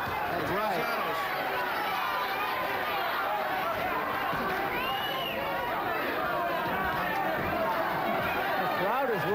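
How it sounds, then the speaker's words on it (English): A boxing arena crowd at a 1988 USBA title fight roars and whoops in a dense, continuous wash of cheering, with a commentator's voice talking over the noise throughout. "The crowd is whooping it up."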